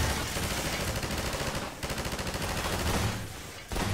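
Rapid automatic pulse rifle fire from Half-Life 2, a dense sustained burst of close, loud shots rattling for nearly four seconds with a short break partway through and no talk.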